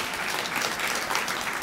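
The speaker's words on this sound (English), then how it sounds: "Let's give all of our co-sponsors a round of applause." Sustained audience applause at a university campus event on slavery and its legacy, a dense, steady wash of many hands clapping at even loudness for the full stretch, with no pauses and no voices rising above it.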